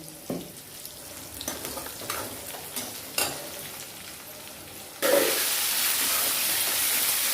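Onions frying in oil for a Tirunelveli-style rock fish curry sizzle softly under occasional stirring clatter, then tomatoes hit the pan and a sudden, louder hissing sizzle takes over and holds steady to the end.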